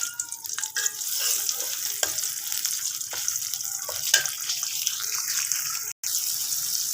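Onions and very hot green chillies frying in a pan give a steady, close sizzle with light stirring scrapes and small pops, continuous through the clip with one brief dropout near the end.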